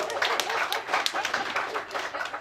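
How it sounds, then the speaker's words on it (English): Audience at a stand-up comedy show in Frederick, Maryland clapping together in a steady burst of applause that fills the room, with scattered voices mixed in. "Let's hear a round of applause."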